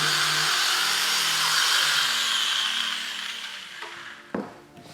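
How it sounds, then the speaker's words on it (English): Steady abrasive rasping of sanding on a hard prop gun, loud and continuous, easing off near the end with a couple of knocks. "I then started sanding the rest of the gun, just sanding and more sanding"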